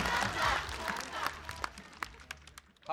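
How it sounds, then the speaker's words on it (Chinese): An audience at a live stand-up comedy show breaks into applause and crowd noise, loudest at the start, then thins into scattered claps that trail off. "好，掌声，谢谢大家"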